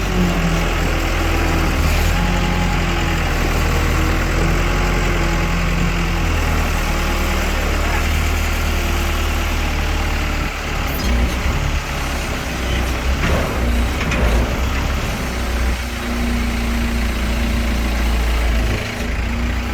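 A GMC C4500 dump truck's engine runs steadily, a loud, close, heavy diesel-like rumble holding for the whole stretch, with voices faintly heard beneath it.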